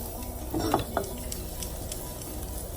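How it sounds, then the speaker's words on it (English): Garlic sizzles and crackles steadily in hot vegetable oil in a pan for a Vietnamese crispy noodle stir fry, with a couple of scraping stirs and clinks near the start, constant and close. "So we're gonna stir fry the vegetables. So I'm gonna put a little bit of vegetable oil, and then I'm gonna put some garlic."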